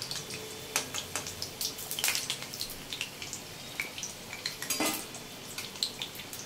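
Fried banana-flower chops are lifted out of a pan, with scattered clinks and scrapes of a utensil against metal over a faint background sizzle.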